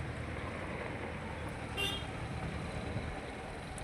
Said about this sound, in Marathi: त्यात आता मागून ट्रॅक्टर येऊ राहिले